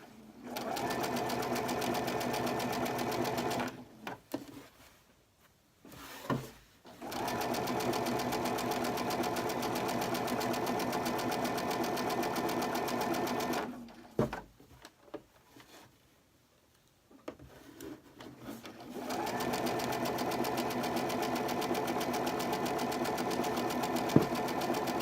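A sewing machine stitches fabric pieces for a baby burp cloth at a quarter-inch seam, running in a steady loud whir for several seconds, pausing briefly twice, then starting again, close up.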